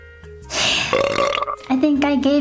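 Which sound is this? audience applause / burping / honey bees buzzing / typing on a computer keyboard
burping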